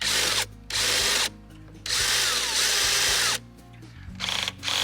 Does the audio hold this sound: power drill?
yes